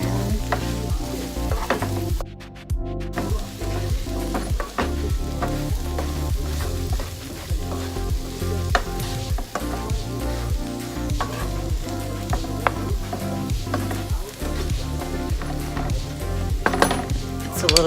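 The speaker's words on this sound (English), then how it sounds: "Go ahead and stir that around." Vegetables tossed with an Italian spice blend, stirred in a hot pan with a continuous sizzle, a utensil scraping and clinking against the metal in an uneven rhythm, close and fairly loud.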